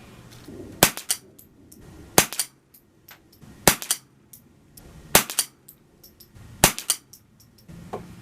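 Six sharp shots from a High Standard Sport King .22 pistol firing CCI standard velocity ammunition, spaced about a second and a half apart, each a crisp crack with a brief ringing tail, no talk.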